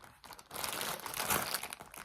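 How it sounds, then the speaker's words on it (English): Crinkling and crumpling of packaging or a plastic bag after a yarn festival, loud and close, a busy continuous rustle lasting about two seconds with no talking. "Sorry for the crinkling."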